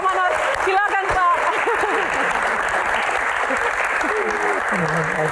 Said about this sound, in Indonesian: Tepuk tangan buat Pak Manoj.